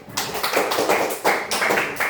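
A classroom group claps in short rhythmic bursts of applause, brisk and close, with no voices over it.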